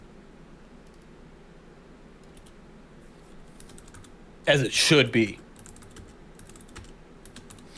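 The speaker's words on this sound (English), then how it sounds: "my typing is pretty loud" Keys clatter on a loud computer keyboard in a brief dense burst of about a second near the middle, close to the microphone, with quiet room noise before and after.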